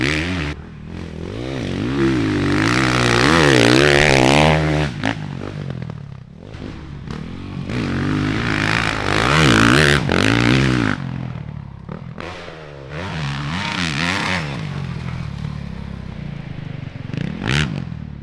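Motocross dirt bikes ride a practice track at the Southwick pro national, engines revving and rising and falling in pitch as the bikes accelerate past, loud and close with scraping clatter between passes.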